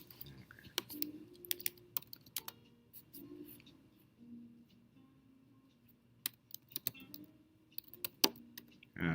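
Typing on a good computer keyboard, bursts of quick close clicks with pauses, alongside soft low murmuring tones in between.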